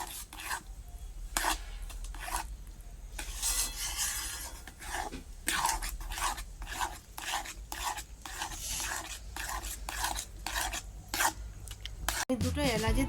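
A spoon scrapes and stirs semolina with sugar in a pan in quick, rhythmic gritty strokes, up close and continuous, ending with a brief dull knock.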